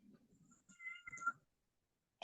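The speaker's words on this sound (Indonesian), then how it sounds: "Suara kucing di mana, Om?" A domestic cat meows faintly somewhere nearby during an online Arabic lesson, giving a short, rising, tonal cry after some soft low murmuring, followed by quiet.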